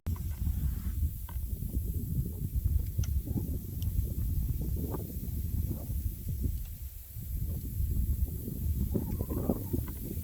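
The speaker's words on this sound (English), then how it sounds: "wind's getting pretty bad" Strong wind buffets the microphone on a lake during kayak fishing, a constant low roaring rumble with gusty surges and faint water lapping, no voices.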